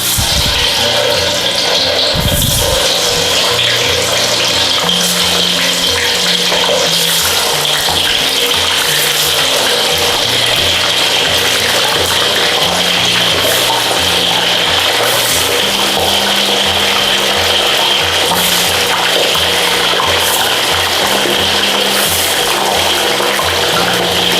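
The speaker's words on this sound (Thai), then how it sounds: "น้ำมันร้อนแล้วนะ ให้เราใส่คากิลงทอดเลยค่ะ" Pork leg frying in hot oil: a dense, constant sizzle and bubbling hiss that holds at a steady loud level throughout.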